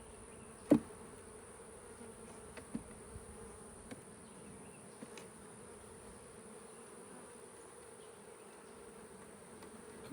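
A soft, steady hum of honeybees buzzing close by in an open hive, with a few faint clicks and taps scattered through it.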